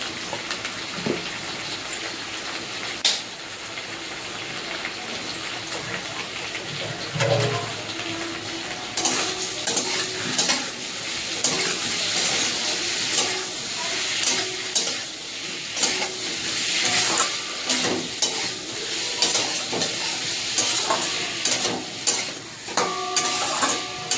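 Cumin, coriander and chilli spices stir-fried in a pan for a turnip and catla fish curry, with steady sizzling and repeated scraping stirs throughout, close and moderately loud, no talking.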